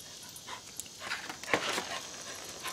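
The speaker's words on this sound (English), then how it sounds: "This is our little beagle puppy" Beagle puppy whimpering and panting nearby, soft high whines and quick breathy pants in short bursts, fairly quiet and without speech.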